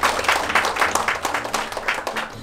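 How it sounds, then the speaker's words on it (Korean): Audience applause at a Korean pro sports club ceremony honouring it for good labour-management relations, a dense steady clatter of many hands clapping together, fairly close and sustained throughout with no voices over it. "박수 부탁드리겠습니다."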